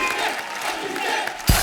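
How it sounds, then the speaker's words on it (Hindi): A studio audience at a comedy talk show cheers and applauds in a loud, steady roar of mixed voices and clapping that carries through to the end, where a brief thump cuts in. "वाह वाह, जोरदार तालियां अभिषेक भाई और चित्रांगदा के लिए।"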